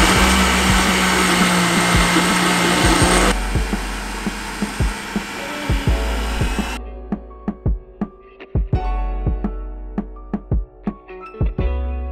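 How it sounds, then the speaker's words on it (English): A blender whirs at high speed through an egg, avocado and banana hair mask, loud and steady, then drops to a lower speed and stops, followed by a series of sharp knocks and thuds. "put the top on and we just blend it"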